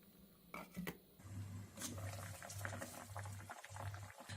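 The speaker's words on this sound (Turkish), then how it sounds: "Su tekrar kaynamaya başladı." Water boils in a pot while fig jam is being made, a steady bubbling and rolling simmer heard up close with a few clinks near the start.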